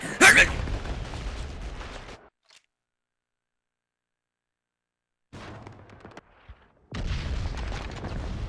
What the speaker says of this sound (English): There are explosions going on all around me.